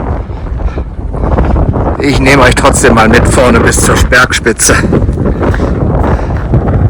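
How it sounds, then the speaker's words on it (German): Strong wind on a mountain summit buffets the microphone with loud, roaring gusts that swell after the first couple of seconds, while someone speaks throughout. "Ja, sehr windig."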